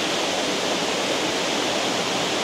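Tuklas waterfall in Barangay Hulo pours as a constant dense roar of falling water, steady and close with no voices.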